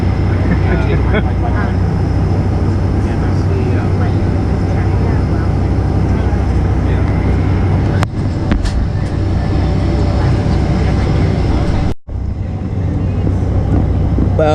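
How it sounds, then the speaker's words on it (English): A Japan Airlines jet lands overhead near the runway at an airport apron, a loud continuous engine roar and rushing air that dominates throughout, nearby and steady, with a brief dropout near the end. "Wow, look at this jet coming in right on top of us here."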